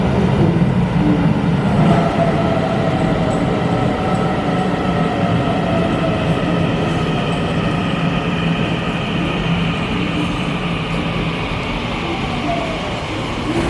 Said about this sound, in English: here comes an EMU 900